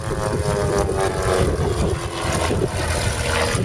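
Light aircraft powered by a 160-horsepower Lycoming Titan AEIO 320 engine at an airshow, a steady loud propeller drone with a buzzing hum throughout.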